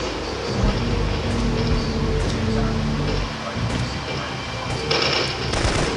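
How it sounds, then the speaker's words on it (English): Dense automatic gunfire and sniper shots from a battle in Syphon Filter 3, a steady loud rattle with sharper cracks throughout, under game noise and some talk. "Heavy sniper fire."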